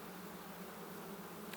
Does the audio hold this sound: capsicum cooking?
no